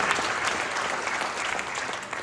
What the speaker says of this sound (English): Give them all a big round of applause again.